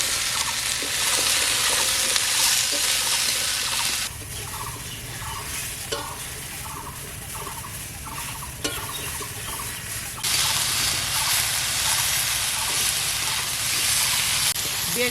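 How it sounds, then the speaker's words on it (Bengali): Eggplant, vegetable stalks and potato frying together in a pan with a little garlic, a steady broadband sizzle and hiss with stirring scrapes, louder at the start and end and softer in the middle. "বেগুন, ডাঁটা, আলু একসঙ্গে ভাজা ভাজা হয়ে গেছে"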